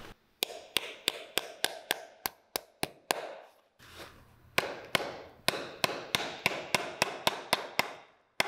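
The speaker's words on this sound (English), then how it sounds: "we are creating a new insole made out of leather, and we're just nailing it to the last now" Hammer blows drive nails into a leather insole set on a shoe last, a quick steady series of sharp close taps with a brief pause midway, then more rapid strikes.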